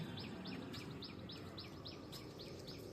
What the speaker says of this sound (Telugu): ఇవన్నమాట పిచ్చుకలు అరకులు వినిపిస్తున్నాయా